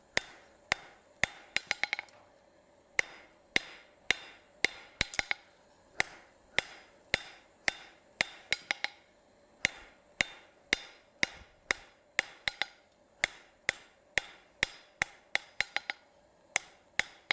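Hot steel taper for a towel bar hammered on the edge of an anvil, a long run of sharp, ringing blows at an irregular but brisk pace, some in quick doubles, close and clear with no talking.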